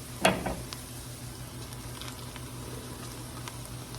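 Three cloves of minced garlic hit a hot pan with a sharp burst of sizzling, then settle into a quiet, steady frying hiss with faint stirring taps.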